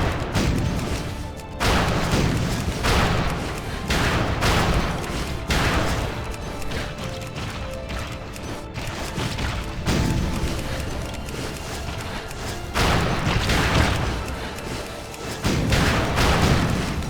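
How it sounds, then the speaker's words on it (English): Cannon fire aimed at waves of flying enemies in the World of Warcraft Townlong Steppes: loud, repeated booming blasts in a dense, continuous barrage, with no talk over it. "Pick up that cannon there and lend a hand if you would."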